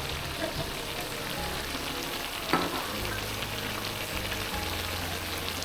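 Spicy free-range chicken stir-frying in a pan at a campsite gives a steady close sizzle and crackle, with a utensil scraping and stirring and one sharp clank partway through, and no talk over it.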